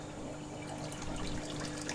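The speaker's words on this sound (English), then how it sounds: "the water's actually coming out above the water level to get a bit of oxygen in" Water from a pump outlet pours into a waterfall tank, a steady splashing and gurgling stream held at a constant level, close and fairly loud, with no voices.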